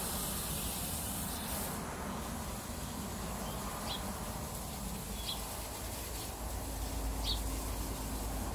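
Water sprays steadily to rinse degreaser off an acrylic pour on a record, a continuous close hiss running unbroken for several seconds with a few faint chirps in the background.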